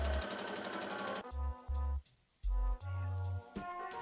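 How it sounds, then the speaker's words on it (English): A sewing machine stitches a skirt to a dress bodice around the waist, running in several short, stop-start bursts under a bright layer of background music, with no talk. "now I'm just going to go ahead and sew all around the waist"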